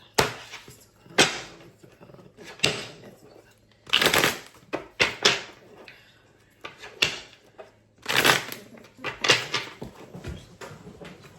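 Tarot cards being shuffled by hand during a reading, heard as repeated bursts of riffling and flapping card noise separated by short pauses, fairly close and moderately loud, with no talking.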